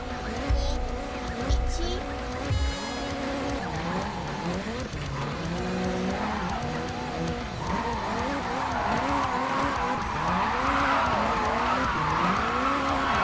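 A car drifts through a racing video game, its engine revving in rising and falling sweeps while the tires squeal in long skids, loud and continuous with a voice talking over it.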